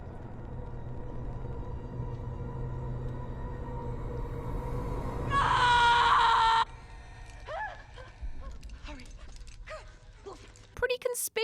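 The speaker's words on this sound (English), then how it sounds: "one that transforms to the screech of a crawler when heard by the other members of the group" A loud harsh screech, a film scream turning into a crawler's cry from The Descent, bursts in over a murky low rumble, holds for about a second, then gives way to scattered creaking animal-like cries and sharp clicks.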